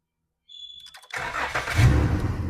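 A Dodge Grand Caravan with a previous no-start fault cranks briefly and then catches. Its engine settles into a steady, close idle with low rumble and no talk over it.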